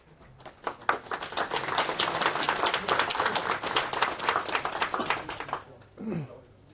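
An audience claps for the last talk of the day at a software conference, many hands building quickly into dense applause, then thinning and stopping near the end, followed by a brief sound that may be a voice.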